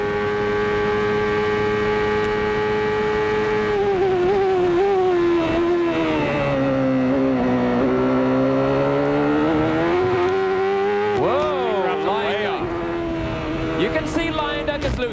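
Open-wheel CART Indy race car at Elkhart Lake in 1993, its engine droning high and steady, briefly easing off through a fast kink and then blasting back to full throttle, loud and close under ongoing commentary.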